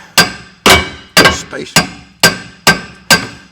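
Hammer tapping a part into place while repairing a 1985 Talbot: seven sharp, evenly spaced metallic strikes about half a second apart, close and loud, with a brief spoken word among them.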